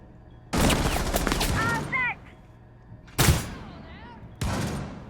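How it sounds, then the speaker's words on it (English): Bursts of gunfire in a Rainbow Six Siege match on the Kafe map, three loud broadband volleys a few seconds apart with a commentator talking over and between them. "Shots coming out."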